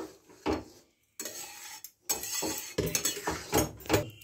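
A pot of vegetable moong dal is stirred with a metal spoon, irregular scraping clinks and knocks against the pot, close and sparse with short pauses between strokes.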